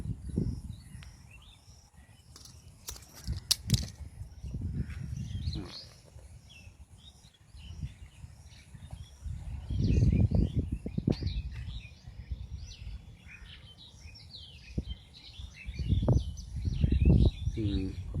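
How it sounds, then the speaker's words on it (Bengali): Birds call outdoors in the green countryside of Mirsharai, Chittagong, scattered chirps and whistles drifting through the background while people talk and move nearby, with rustling and footsteps in louder stretches. "পাখির কলতান থেমে গেল কেন এটা বলার সাথে সাথে কিন্তু কিছু ওদের কিছু ডাক শুনতে পেলাম"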